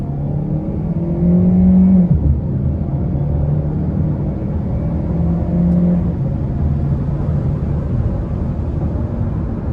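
A 2025 Hyundai Sonata Hybrid Limited accelerates at about half throttle, a steady engine rumble and whir swelling from inside the cabin and holding strong for several seconds.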